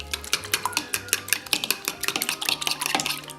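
A utensil stirs and beats pancake batter of eggs in a bowl with brisk, rhythmic clinks and scrapes against the sides, close and steady with no talking.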